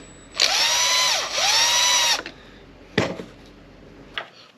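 Two whining bursts of a power driver spinning a T25 bit to back out carburetor bolts on a 500i engine being fitted with a 572 big-bore kit, each run winding down, followed by a couple of sharp clicks of the parts being handled.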